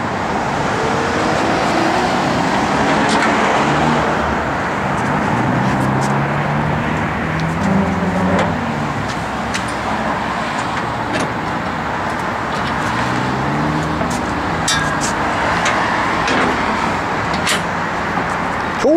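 A 1950 Ford F1 pickup with a 9-inch rear end and stock Ford 300 gearing drives down the road, a steady close engine and road roar with shifting tones, heard from inside without talk.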